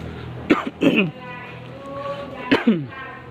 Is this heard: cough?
yes